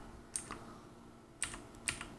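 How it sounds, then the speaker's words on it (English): Three separate key presses click on a computer keyboard, the number lock key among them, with quiet gaps in between in a calm room. "then you lock it on your keyboard"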